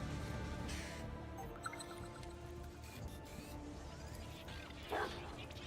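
A dog barks faintly in the Warhammer 40K Rogue Trader game, a few soft woofs buried in quiet ambient game sound with a little background talk.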